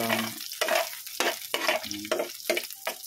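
Ingredients toasting in a frying pan as they are stirred, producing repeated bursts of scraping and sizzling at a brisk, uneven rhythm, close and fairly loud.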